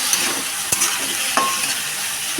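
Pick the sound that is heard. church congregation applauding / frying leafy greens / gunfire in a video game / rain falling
frying leafy greens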